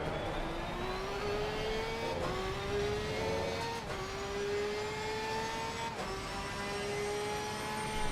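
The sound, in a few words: Mercedes race car engine in Assetto Corsa Competizione video game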